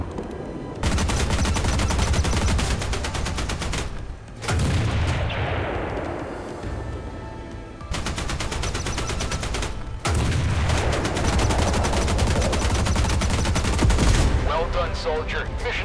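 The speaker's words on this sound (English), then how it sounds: "Switch to machine guns to fight against enemy aircraft." Sustained machine gun fire against enemy aircraft in the tank combat video game MWT: Tank Battle, loud continuous bursts broken by brief pauses around four, eight and ten seconds, with booming explosions and whooshing between the volleys.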